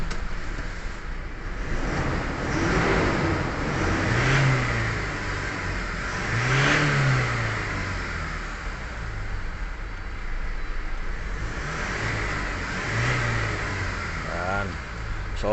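A Toyota Commuter van engine cranks, catches and is revved in several swelling bursts after a fuel filter change, heard close up with people talking between revs.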